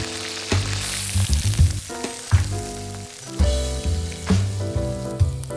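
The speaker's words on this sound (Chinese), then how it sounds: "热锅起油，油要多一点，依次爆香姜片、蒜粒、干辣椒和葱白，加入这个包的灵魂之一酸笋" Ginger slices, garlic cloves, dried chilies, scallion whites and pickled bamboo shoots stir-fry in plenty of hot oil in a wok, with a continuous crackling sizzle and occasional stirring strokes under background music.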